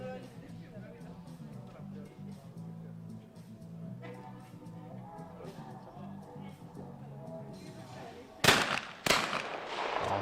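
Shotgun blasts at clay targets in a junior men's skeet final, two sharp reports in quick succession near the end, following a stretch of crowd murmur and commentary talk.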